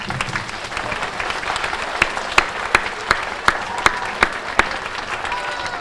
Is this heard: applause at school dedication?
yes